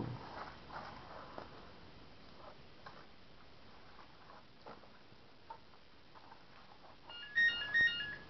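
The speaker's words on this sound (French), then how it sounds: "Et voilà que le téléphone il casse les couilles." Soft ticking taps through a quiet room, then an electronic phone ringtone chirps twice in short bursts near the end.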